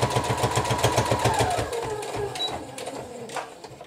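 A sewing machine stitches through thick double layers of fabric and batting for a microwave potato bag, its needle pounding in a rapid, even mechanical rhythm that slows and tapers off partway through.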